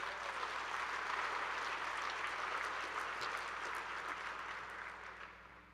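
A college audience gathered for All College Day breaks into sustained applause, a broad, even roar of many hands that holds steady for several seconds before tapering off.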